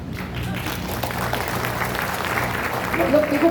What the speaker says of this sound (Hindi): फीलिंग से ही तालियां बज रही है